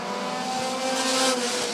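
A Honda Prelude and a Chevy Cobalt race for the lead at Rockford Speedway in a bandit feature, engines droning loud and steady as the cars pass close.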